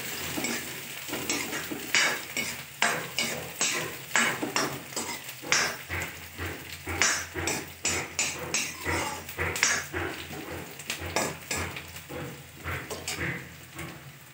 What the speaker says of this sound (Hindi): हमारे प्याज भुन रहे हैं